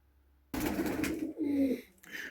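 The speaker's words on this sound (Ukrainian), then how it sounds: "Ось голубенятка наша, мої сидять" Pigeons coo in low, throaty tones close by in a pigeon loft, with rustling and faint background noise around them.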